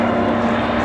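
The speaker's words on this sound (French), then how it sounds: "P-47 Thunderbolt." A P-47 Thunderbolt fighter flies at an airshow, its piston engine and propeller making a loud, steady, broad droning roar that holds without pause.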